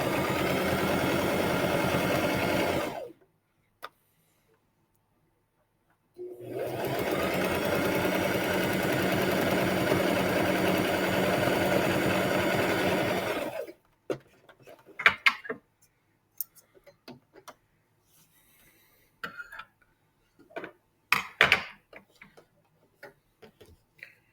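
Sewing machine stitching quilt half-square triangles, running in a steady loud whir for a few seconds, pausing, then a long continuous run, followed by scattered handling clicks and fabric rustles.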